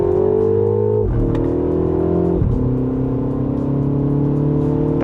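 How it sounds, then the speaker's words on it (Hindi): The MINI JCW Countryman ALL4 is heard from close range while driving, its engine droning loudly and rising in pitch through the gears. Two quick shift dips break the climb, with no voices. "फर्स्ट ऑफ ऑल, जो ये मिनी साउंड है काफी इफेक्टिव है।"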